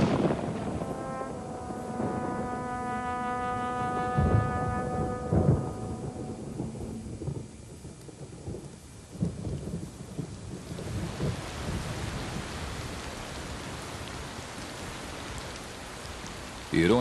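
Thunderstorm over the Serengeti plains: steady rain hissing with deep rumbles of thunder rolling through, the rain growing heavier and denser toward the end, with music-like tones early on.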